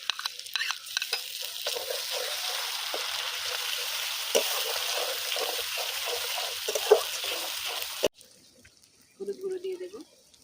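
Ground cumin, ginger and garlic pastes fry and sizzle in a pan for a katla fish and potato curry, a steady hiss with light stirring knocks, then a sudden stop and a short quiet hum.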